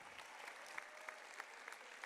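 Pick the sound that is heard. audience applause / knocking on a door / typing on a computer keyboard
audience applause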